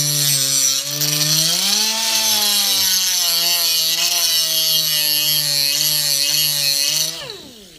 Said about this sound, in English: we're going to use the die cutter with the grinding wheel